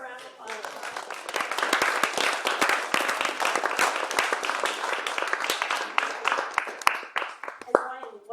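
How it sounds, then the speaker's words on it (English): Conference audience applauding at the close of a networks session, dense and loud clapping from a nearby crowd that swells, holds for several seconds, then breaks into a few final scattered claps. "So let's give a round of applause."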